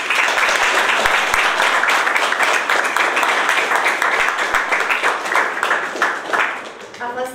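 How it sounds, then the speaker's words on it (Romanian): An audience gives loud, dense applause after a school group's performance at a music event honouring Celibidache. The clapping is sustained and then tapers off near the end. "Să-i mai aplaudăm o dată."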